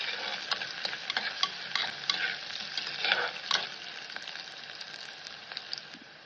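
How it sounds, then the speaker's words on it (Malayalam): Onions being stirred and fried in oil with curry leaves and mustard, a steady close sizzle broken by repeated scraping stirs and small crackles, with no talk. "ഉള്ളിയൊക്കെ ഒന്ന് നന്നായിട്ട് നമുക്കൊന്ന് മിക്സ് ചെയ്ത് എണ്ണയിൽ കടന്നിട്ടൊന്ന് മൂത്ത് വരട്ടെ."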